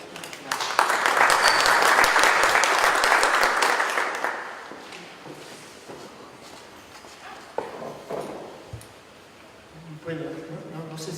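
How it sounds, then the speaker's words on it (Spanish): Audience members at a university lecture on paleoseismology and archaeoseismology in Mexico clap for the lecturer, loud at first and fading over a few seconds into scattered claps, footsteps and a voice starting to speak. "Les pido un aplauso, por favor, para él."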